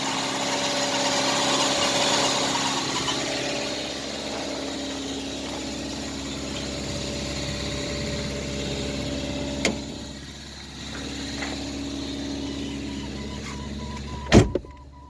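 A steady whirring cooling fan runs over an idling 1989 Renault Super 5 GTR engine for several seconds, then fades, followed by a couple of sharp clicks near the end.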